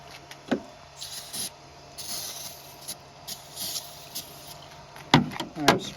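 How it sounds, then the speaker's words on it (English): Ether starting fluid is sprayed into a GMC Savana van engine in several short hissing bursts of varying length, close by, with a few sharp knocks in between. "I've sprayed quite a bit of that in there."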